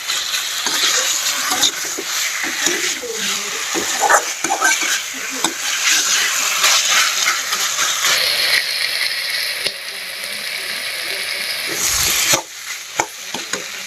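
Chicken and then potatoes frying in a pan, a close sizzle with clattering stirring scrapes at irregular intervals.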